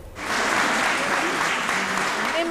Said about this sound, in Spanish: En medio de aplausos y rodeada de vecinos